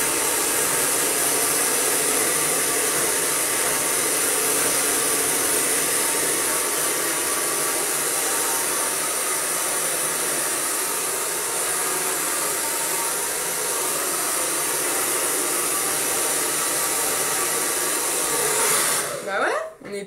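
A handheld hair dryer blows steadily and loudly on hair during a sleek blow-dry, a continuous airy roar that runs almost unbroken until a brief tail-off at the very end.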